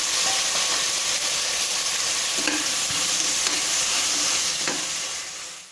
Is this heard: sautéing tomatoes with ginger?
yes